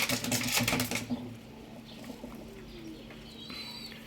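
Soft pigeon coos sound faintly after a burst of fluttering and scuffling, with quiet background noise.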